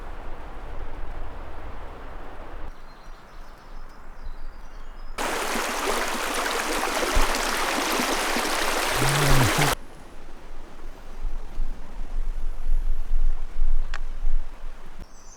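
Steady broadband rush of a river running beside a flat, clear hiking trail in the 100 Mile Wilderness on the Appalachian Trail, continuous throughout and swelling loudly for several seconds in the middle.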